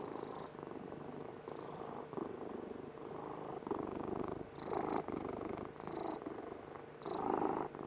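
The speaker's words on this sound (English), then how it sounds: "He's one of the loudest purring kitties." A cat purrs close up, a continuous rumbling purr with rhythmic swells as it breathes in and out.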